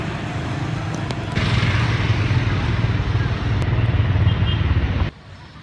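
Motorbike ride to a beach in Bali, a steady close engine drone mixed with wind rush that swells after the first second and cuts off abruptly near the end.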